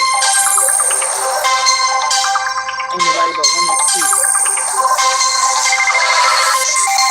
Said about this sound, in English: I'm not answering his phone.